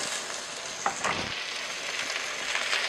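Fish sears in oil in a hot cast iron pan on high heat, giving a steady, close sizzle and crackle with a few sharper spits and stirring sounds, no voices.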